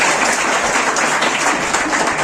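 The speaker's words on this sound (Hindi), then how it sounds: "जबरदस्त तालियां बजी उस किशोर के लिए" Applause from an audience of young students at a youth values-education session, a dense, steady wash of clapping that fills the whole stretch at an even, fairly loud level with no voices over it.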